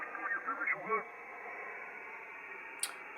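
SSB ham radio receiver audio from a K3 with noise reduction switched on: band-limited hiss carrying faint, garbled voice fragments at first, then steady soft static with a small click near the end.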